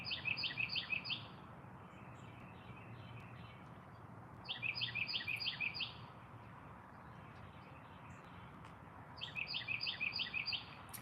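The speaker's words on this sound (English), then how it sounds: "As you can hear, I have a full audience. Lots of birds." Birds chirp outdoors in three short bursts of quick high twittering calls, moderately distant, with a steady low ambient murmur between them.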